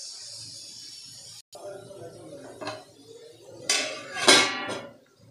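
A lid is set on a cooking pot of ilish fish head with chalkumro, giving a couple of metallic clinks and a short rattle after some quiet kitchen clatter, with faint talk in the background.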